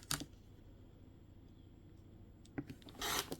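Fabric for a quilt block being trimmed with a seam allowance, giving a short rasping cut at the start and another longer rasp near the end, faint and close, with quiet pauses in between.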